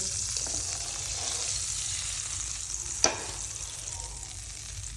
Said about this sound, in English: I let the butter melt for a bit